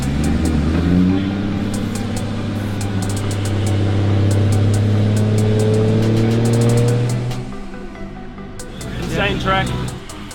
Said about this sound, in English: Give the cars a run up on the stands before they head out to make sure the diffs, gearbox and everything are all warm and ready to go.